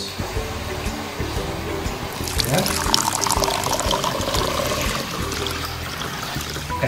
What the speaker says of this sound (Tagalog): lalagyan natin ng tubig mga kayos